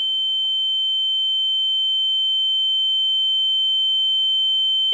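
A steady, high-pitched pure sine test tone holds unchanged for five seconds, with faint low rustling background noise at the start and end.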